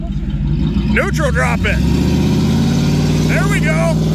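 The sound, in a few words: 1989 Suburban neutral drop with welded diff, tires spinning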